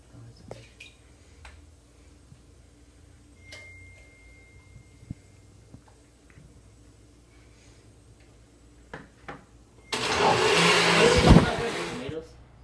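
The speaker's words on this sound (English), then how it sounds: "Put it in the blender." A blender purees ten tomatoes with half a glass of water for a Bolognese sauce, a loud dense whirring that starts abruptly near the end and runs for a few seconds after quieter kitchen handling noises.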